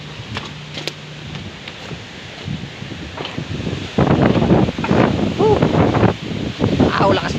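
Strong typhoon wind roaring and buffeting the microphone during a storm that is toppling trees, with gusts swelling louder partway through and people talking over it.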